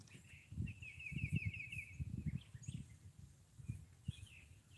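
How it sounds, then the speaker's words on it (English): Faint outdoor birdsong, one clear trilling call and a few scattered chirps, sits over low thumps and soft background noise. "The birds are singing,"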